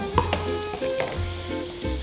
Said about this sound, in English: So we'll throw these in here, let them saute a few minutes.